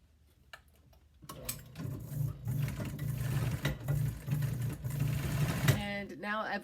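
A sewing machine stitches a small stopper across the open end of a zipper for a velvet boxed cushion, starting after a quiet moment and running in a fast, steady mechanical whir with brief pauses.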